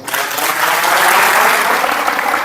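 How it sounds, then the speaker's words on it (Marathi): A village assembly crowd claps together in sustained, dense applause, loud and fairly close, rising quickly and holding steady across the moment without speech. "सगळ्यात पहिलं तुमच्या सर्व ग्रामस्थांसाठी तुम्ही टाळ्या वाजवा"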